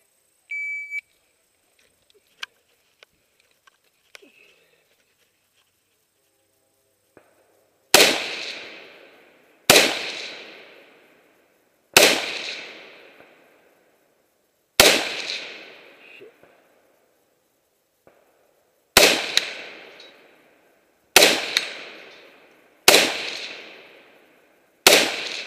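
Loud gunshots on a 3-gun competition stage at Blue Ridge 3-Gun 2015, with a faint beep and small clicks first, then nine sharp reports with ringing decay, spaced a second or two apart.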